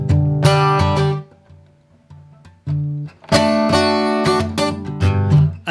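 Acoustic guitar strummed in bursts at a fast tempo, with sloppy, uneven chord changes and gaps where the rhythm falters, played close and loud.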